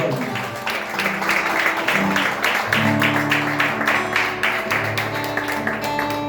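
A church congregation applauds God during a worship service, a dense, steady roar of many hands clapping that carries on loudly throughout, with voices mixed into the crowd noise.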